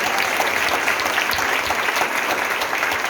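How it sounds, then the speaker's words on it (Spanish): A church congregation applauds loudly and steadily during a prayer service, a dense, continuous wash of clapping from many hands with no pauses throughout. "Dale un aplauso fuerte al Señor."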